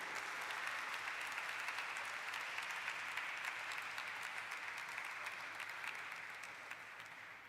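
A large audience claps steadily at a stock exchange listing ceremony for Eureka Forbes Limited, a dense, sustained wash of applause that holds throughout and tapers slightly toward the end, with no speech.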